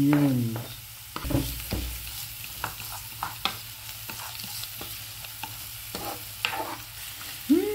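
Garlic and onions sauté in a pan with a soft steady sizzle under repeated scraping and stirring clicks, close and fairly quiet.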